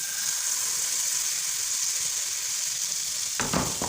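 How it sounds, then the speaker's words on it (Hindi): Besan cheela batter sizzles steadily in hot oil on a pan, a continuous close hiss of frying with a brief louder crackle near the end and no talking. "जब ये गर्म हो जाए तो उसके अंदर हम बैटर डालते हैं।"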